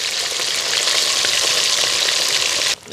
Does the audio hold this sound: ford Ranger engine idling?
no